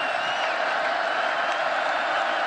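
A college football stadium crowd at a Western Kentucky versus Wisconsin game roars in a steady, dense wash of cheering, loud and sustained throughout with no single voice standing out.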